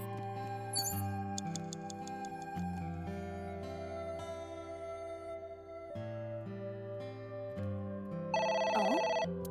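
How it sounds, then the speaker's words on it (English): An electronic telephone ringtone plays in the video game AI: The Somnium Files, with repeating tonal ring phrases over ticking clock-like tones and background music and no talking. "Oh? It's the phone."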